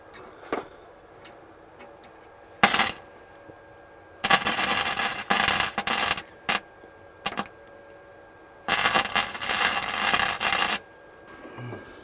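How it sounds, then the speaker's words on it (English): Angle iron is welded for a Datsun 280Z bumper and battery mount, in three harsh, crackling bursts of a few seconds each, separated by quiet gaps with faint clicks. "See how this welds."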